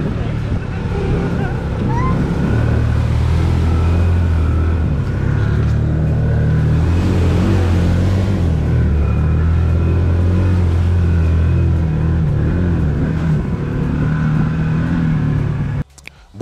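A BRP Traxter HD10 XMR side-by-side drives with a loud, close, continuous engine rumble under a wash of wind and water-like rushing noise, cutting off abruptly near the end.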